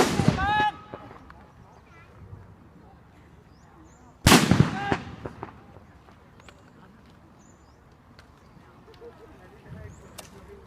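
Two sharp, loud military demolition explosions several seconds apart, each trailing off into rumbling debris and echoes, with quieter crackles between.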